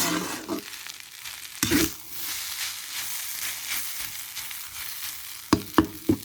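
Rice stir-fried in a pan with fresh naem (Thai fermented pork) and egg, a steady close sizzle with scraping stir strokes and a few sharp clanks of the utensil against the pan.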